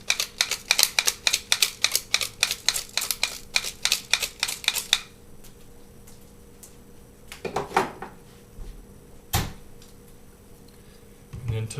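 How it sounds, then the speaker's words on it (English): A one-handed pepper mill grinding black pepper outdoors, a rapid run of sharp, regular ratcheting clicks close by for about five seconds, then stopping, followed by a few scattered knocks and clatters. "And some fresh ground black pepper."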